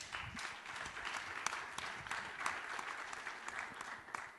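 Audience applause at a global conference closing plenary session, steady dense clapping from a large crowd throughout, moderately loud and without speech.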